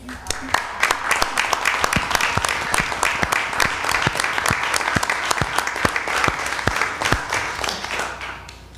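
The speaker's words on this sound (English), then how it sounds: "a round of applause for these" An audience at a school board meeting gives a round of applause, a steady burst of close, crisp hand claps lasting several seconds.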